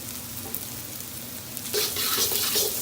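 White onion, garlic and ginger frying in a pan, with a steady close sizzle that rises sharply as more ingredients hit the hot oil partway through.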